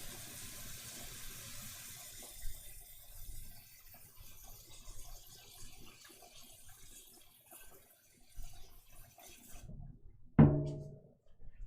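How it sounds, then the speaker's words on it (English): More water is added while a tap runs: a faint, steady wash of flowing water that tapers off, then a brief sharp splash or clunk near the end before quiet. "I'm actually going to add some more water to this"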